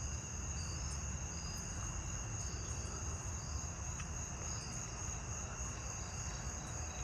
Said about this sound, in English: Yeah, those are definitely narrow-winged.